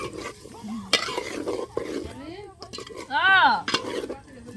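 Pot stirred while cooking outdoors with potatoes and fish, giving scraping and clinking strokes over a sizzling fry, with voices and other sounds mixed in.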